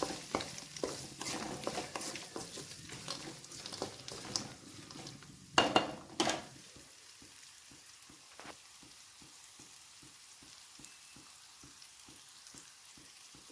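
Onions fry in a pan for mango rice, with a steady sizzle and busy stirring scrapes, then a couple of louder clanks before a run of soft, regular ticking taps near and quiet.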